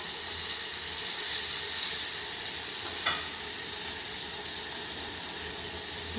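Steady close-up sizzle and hiss of frying as ginger, green chilies and tomatoes go into a hot pan, with a brief stirring scrape midway and no voices.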